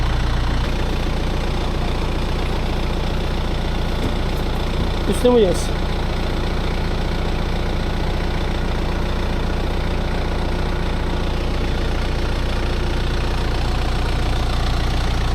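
A tractor engine idles steadily on a steep fig orchard slope, a constant low rumble running the whole time, with someone talking briefly over it and a short squeak midway.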